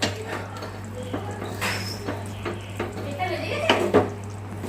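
Fish curry being stirred in a pot: a spoon knocks and scrapes against the metal several times over a low steady hum, with a faint sizzle underneath.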